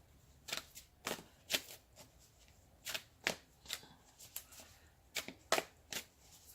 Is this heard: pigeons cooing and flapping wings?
no